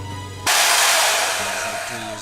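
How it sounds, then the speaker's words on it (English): A power tool starts abruptly and runs with a loud, steady, rushing whine as it cuts through a fuel line at a taped mark on a turbocharged Civic, close and continuous, settling slightly toward the end. "All right, we got it cut all the way through."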